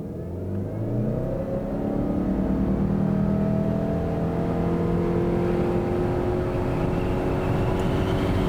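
A 2021 Subaru Ascent three-row family SUV accelerates hard in a 0 to 60 run after brake torquing. The engine drone rises smoothly and continuously in pitch, heard steadily from inside the cabin with no talk.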